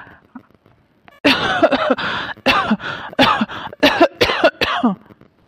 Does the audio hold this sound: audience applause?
no